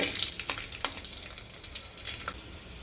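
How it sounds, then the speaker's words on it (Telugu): Small pieces of garlic cloves fry in oil over a low flame, making a gentle, even sizzle up close with a few faint taps of stirring. "సిమ్ములో పెట్టుకొని వెల్లుల్లి రెబ్బలు చిన్నగా ముక్కలు తుంపి వేసుకోవాలి ఆయిల్లో"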